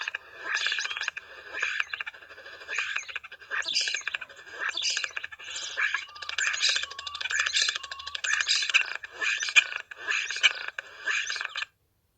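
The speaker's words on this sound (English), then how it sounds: "So here is a natural song sung by a starling." A starling sings its natural song, a long run of chirps, whistles, rattles and squeaky warbles in uneven bursts, fairly close and clear, with near-silent gaps and no talk.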